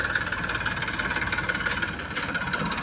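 Tractor engine running on a 40-bigha farm field, a steady loud mid-range drone with continuous vibration and no pauses or voices.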